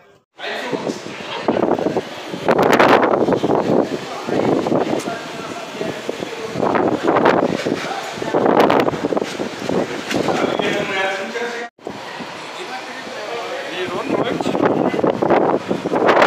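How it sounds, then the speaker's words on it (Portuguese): Strong wind from a sandstorm at a beach on the São Paulo interior coast, loud and gusting in rushes, with people talking over it throughout. "olha o vento, olha o barulho do... Tá escutando?"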